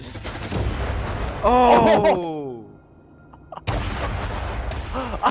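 Gunfire in the space game Space Engineers: dense bursts of rapid shots under an excited shouting voice, a pause, then more firing resumes over continued talk.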